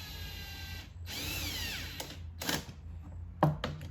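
A power drill drives torque screws during an engine air filter replacement on a Mercedes-Benz E350 W212, with a few short whirring bursts that rise in pitch, separated by pauses and small clicks.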